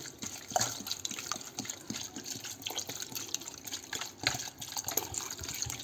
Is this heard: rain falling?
no